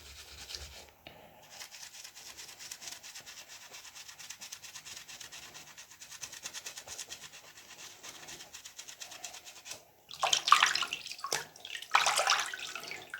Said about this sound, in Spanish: este es el funcionamiento de los jabones, del agua y de los pinceles sucios